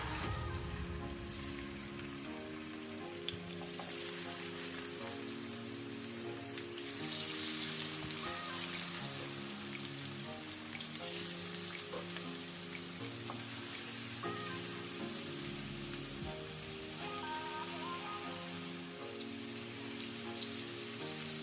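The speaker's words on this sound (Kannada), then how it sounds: "ಈಗ ಫ್ಲೇಮ್ ಅನ್ನು ಮೀಡಿಯಂ ಟು ಹೈಯಲ್ಲಿ ಇಟ್ಕೊಂಡು ಪ್ರಾನ್ಸ್ ಅನ್ನು ಫ್ರೈ ಮಾಡ್ಕೊಳ್ಳೋಣ" Marinated prawns sizzle steadily in hot cooking oil in a pan over a medium-high flame, a dense continuous crackle with a faint musical tone running underneath.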